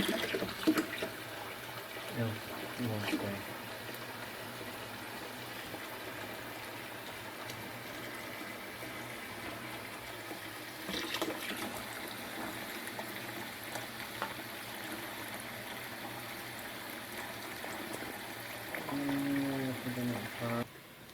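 Cold tap water runs steadily into a fermenter being filled for apple cider, a soft continuous splashing and gurgling that stays fairly quiet, with a voice and other faint household sounds in the background.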